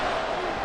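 A Madden 24 football stadium crowd roars in a steady, dense wash of noise during a third-and-goal play, brief and continuous with no distinct peaks.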